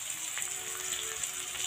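Carrots and potatoes fry with chopped onion in a pan for Bengali suji upma, giving a steady, close hiss and sizzle with faint crackles and no voices.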